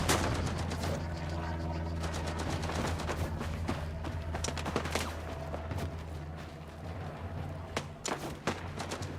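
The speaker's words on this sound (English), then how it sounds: "Heard a pistol to my left" Dense gunfire in a Gallipoli-themed battle video game, rapid overlapping shots and bursts both near and distant, with sharper pistol-like cracks scattered through a constant low rumble of combat.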